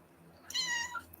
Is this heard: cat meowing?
yes